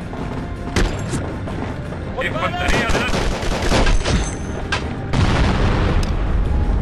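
Grenades and gunfire in Conflict: Desert Storm 2 during a Kuwait oil-fire mission: repeated booming blasts and bursts of shots over a constant battle din, with a voice talking briefly over it.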